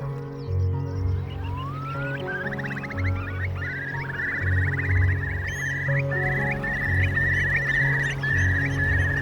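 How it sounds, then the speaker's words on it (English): Water birds call on a winter coast in a dense chorus of honking, clucking calls, with a repeated higher rattling call on top, loud and continuous with no talk. "the winter air filled with the calls of water birds"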